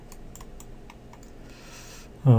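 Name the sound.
pressing Shift H on a computer keyboard in Maya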